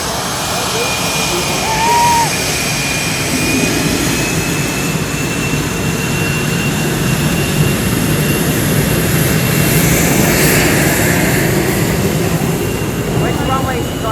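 A jet aircraft at the Gatineau-Ottawa airshow roars loudly overhead in a broad, sustained rumble with a slight swell midway, a steady noisy wash through the whole pass.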